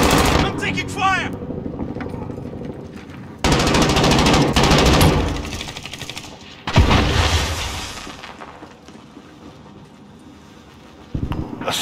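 Call of Duty Modern Warfare multiplayer gunfire in a superstore map: loud automatic weapon bursts and heavy blasts in several thick stretches, with quieter gaps and faint game radio chatter between.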